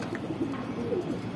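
An Indian Kaldom pigeon gives soft, low coos, faint and close, in a short burst with no voices.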